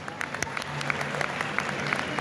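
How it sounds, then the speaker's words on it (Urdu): An audience at a literary festival in Quetta claps in a steady, dense patter for a couple of seconds, with a murmur of voices underneath. "بھرپور تالیاں استاد نورل کے لیے"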